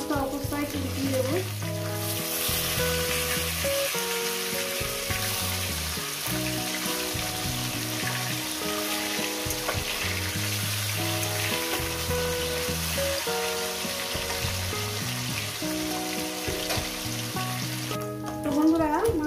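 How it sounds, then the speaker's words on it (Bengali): Fish pieces fry in hot oil in a pan, a dense continuous sizzle with bubbling and occasional stirring, fairly close and steady for the whole stretch. "মাছগুলো ভাজা হয়ে গেছে"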